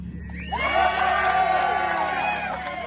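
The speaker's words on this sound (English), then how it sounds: "you're gonna give me a loud cheer" A mini bike race crowd erupts in a loud cheer of whoops and shouts that holds for about two seconds before tapering off.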